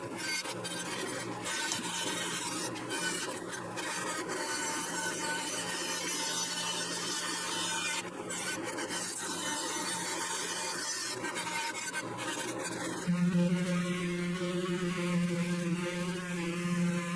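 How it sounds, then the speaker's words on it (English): Two pine rocking-chair rockers clamped together are sanded with a power sander, a continuous rasping grind that shifts into a louder, steadier tonal whine partway through. "Next, I clamp the 2 rockers together and sand them so that they're exactly the same size."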